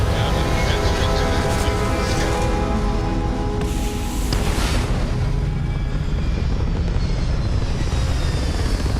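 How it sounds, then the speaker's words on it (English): Spaceship liftoff in the Starfield video game: a loud, sustained engine roar with rising tonal whine, surging midway and holding steady throughout, dense and close. "Liftoff initiated, Captain."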